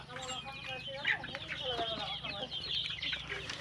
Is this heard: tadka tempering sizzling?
no